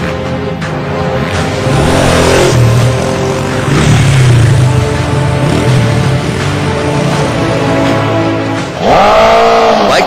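Bikers doing stunts on a Delhi road make loud engines rev and whine with rising and falling pitch. A close, sharp rev surges near the end over steady traffic noise.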